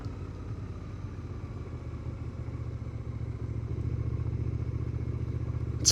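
A motorcycle fitted with a Puig touring windscreen rolls along easily at low speed, its steady engine rumble and low drone holding constant and swelling slightly louder toward the end.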